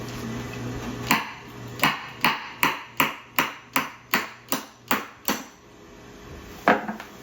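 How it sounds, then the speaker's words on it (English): A motor shaft is hammered out of the old blades of a 1972 Lakewood P-223 fan, producing about ten loud, evenly spaced metallic blows in a steady rhythm, then a pause and one final knock. "I put this in up the other way so I can just hammer this and then catch the motor"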